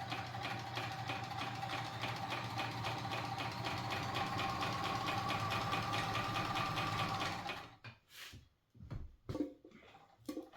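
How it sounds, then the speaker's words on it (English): Kenmore 148.19370 sewing machine running a zigzag stitch, a steady close mechanical whir with fast regular needle clatter for about seven seconds, then stopping into near quiet with a few faint bumps. "Now we're going to add some stitch width."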